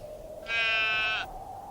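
A sheep gives one loud, drawn-out bleat lasting under a second, close by on a farm in a Hindi film scene, over a steady low background hum and with no talk.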